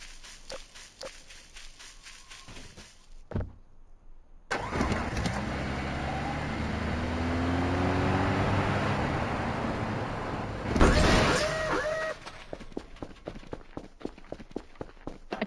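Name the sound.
car engine starting and driving, from video game Voices of the Void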